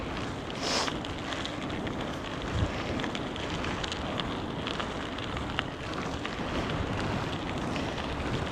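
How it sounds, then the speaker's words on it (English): Wind buffets an outdoor microphone during a lunchtime ride, a steady loud rumble and hiss that runs the whole time with no other clear sound over it. "Pretty windy."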